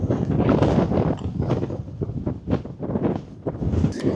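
Gusty wind batters the microphone in loud, uneven bursts that rise and dip throughout, at the top of a Scottish Munro.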